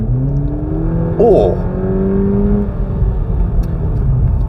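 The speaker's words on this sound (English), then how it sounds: "Initially, the engine sounds quite good, but then it gets a little bit drony as you get towards the rev limiter." A 2022 Volkswagen Polo GTI engine hums steadily, then revs up briefly before settling back to a continuous drone, with loud road and engine rumble throughout.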